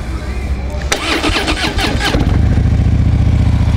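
Harley-Davidson Dyna Low Rider FXDL motorcycle engine cranking and firing up, a brief starter whir that catches into a loud, lumpy V-twin idle settling into a steady throb close by, with a voice briefly over it.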